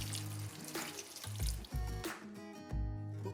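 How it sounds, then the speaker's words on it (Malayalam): Water pours into a hot pan of spiced egg curry base, a close splashing gush with sputtering and bubbling that comes in several surges and tapers toward the end. "ഇത്രയും വെള്ളം ഒഴിക്കാം."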